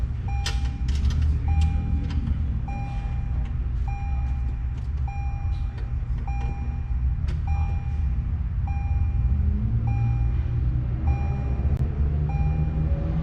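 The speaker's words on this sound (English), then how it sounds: "the beeps are annoying, but I have the door open, so it is what it is" A 2022 Toyota 4Runner's door-open warning chime repeats as steady, evenly spaced beeps about once a second, sounding clearly over a continuous low rumble of background noise.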